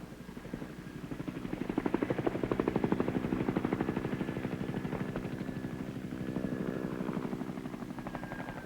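AH-1 Cobra attack helicopters fly protective patterns over a combat landing zone, their rotors thumping in a steady rapid beat at a moderate distance, the engine drone holding evenly throughout.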